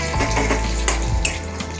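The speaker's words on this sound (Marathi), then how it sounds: "आता बघा लसूण छान फ्राय झालं तेलामध्ये." Garlic fries in hot oil in a pan for a Malvani-style whole masoor amti, giving a loud, steady sizzle with a few sharp pops and spatters on top.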